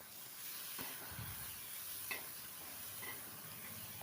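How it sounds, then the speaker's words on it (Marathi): Tomatoes sautéing in a pan, giving a faint, steady sizzle and hiss with a few soft scrapes and taps as they are stirred. "टोमॅटो हलकंसं परतून घेऊ"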